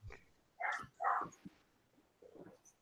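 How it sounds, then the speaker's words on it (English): A pet dog barking in the background, a few quiet, separated barks heard faintly at a distance in an otherwise quiet room. "Can you guys hear my dog barking in the background?"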